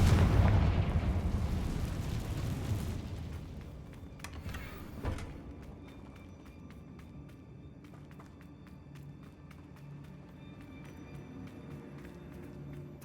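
A Confringo fire spell blasts in the video game Hogwarts Legacy: a loud, broad burst opens the clip, then fades, with a sharper thump near five seconds and faint clicks and rumble trailing off.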